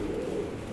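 Racing pigeons in a loft give a low, continuous cooing murmur, steady and fairly close throughout the short stretch with no talk.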